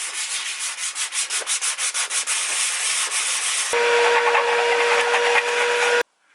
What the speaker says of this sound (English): And a little bit more sanding.